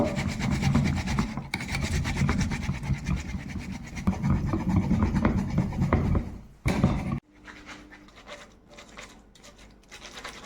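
Watermelon pieces are rubbed over a kitchen grater to draw out juice for homemade ice cream: a continuous, close, coarse rasping scrape in repeated strokes, with a short pause and a brief burst near the end before quieter scraping resumes.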